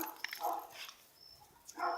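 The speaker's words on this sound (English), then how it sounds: "Oh, but there's a puppy." A puppy at a house in Belize gives a few soft, faint yips and small barks in quick succession, heard from a short distance with no talk.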